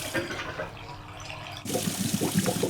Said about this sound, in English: That's the first wash cycle.